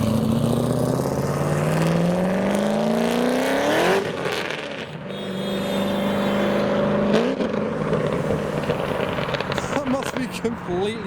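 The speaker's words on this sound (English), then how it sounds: "we've got this C6 Z06 now leaving the show, sounding fantastic" A Chevrolet Corvette C6 Z06 with a straight-through exhaust pulls away from a busy car meet, its loud engine note climbing through the gears with a rising roar, a brief lift, then another hard pull as it drives off.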